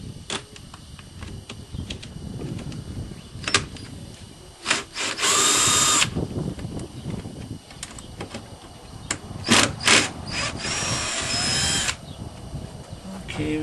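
Taillight mounting bolts on a 2003 Honda are backed out with a power drill, which whines in short bursts of varying length, close up, with handling clicks and quiet background noise between the runs.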